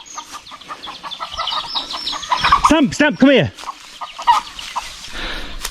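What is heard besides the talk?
chickens and chicks clucking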